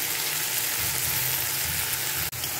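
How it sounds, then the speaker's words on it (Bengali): Ground spice paste added to hot oil tempered with black cumin, a loud, dense, even sizzle that fills the moment with a brief dip near the end. "এইবারে দিয়ে দিচ্ছি বাটা মশলা।"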